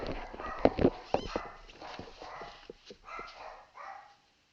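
Dogs bark and yip in a quick cluster of sharp, close barks, then trail off into softer whimpering sounds before going quiet.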